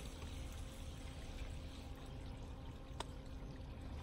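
Waste water pours steadily out of an RV holding tank during a flush, a faint continuous gushing trickle at low level with a single small knock partway through and no voices.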